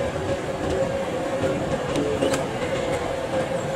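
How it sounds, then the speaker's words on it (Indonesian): Rumble and rhythmic clatter of a passenger train running on the line from KL Sentral to Taiping, heard from inside the carriage as a steady mid-level drone with faint clicks and no clear talk. "Ini adalah kereta api yang pertama berangkat jam 7"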